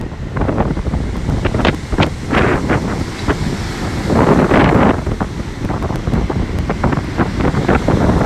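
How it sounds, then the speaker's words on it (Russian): Strong storm wind and crashing sea waves on the Sochi coast, a loud continuous roar with wind buffeting the microphone and repeated surges of surf breaking close by. "Очень сильный ветер."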